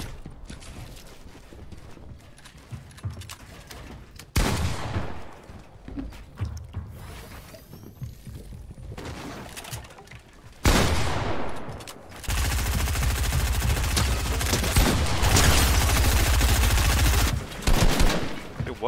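Bursts of Fortnite gunfire in a wager match: sparse shots early, then sustained loud automatic fire with mechanical clatter, no talking.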